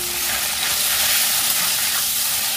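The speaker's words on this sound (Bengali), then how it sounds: "এইবার আমি পনিরগুলো সবই দিয়ে দেবো, একসঙ্গেই দিয়ে দেবো।" Paneer fries in plenty of hot oil, a loud, dense, continuous sizzle and hiss that stays steady throughout with no voices.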